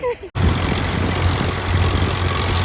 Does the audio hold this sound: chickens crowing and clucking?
no